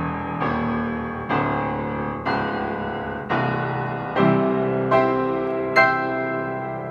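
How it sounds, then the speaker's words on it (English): Deep bass notes on a Yamaha JX113 upright acoustic piano ring out one at a time, seven struck notes each left to sustain and decay, close and clear with no talking. "Really, really good quality sounding piano."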